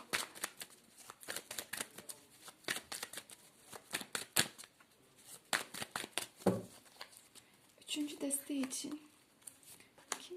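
A deck of tarot-style cards is shuffled by hand in sharp riffling bursts, repeated many times with pauses between them, and someone talks over parts of it.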